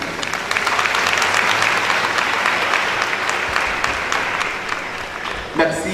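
An audience at a graduation ceremony applauds a graduate with sustained, dense clapping that slowly tapers, and a brief voice comes in near the end.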